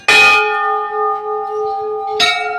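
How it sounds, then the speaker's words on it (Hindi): Temple bell struck by hand on the Kedarnath trek near Gaurikund, two loud metallic strikes with a long ringing, shimmering tone sustaining between them, close by, no talking. "इधर में घंटी बजा देता हूँ।"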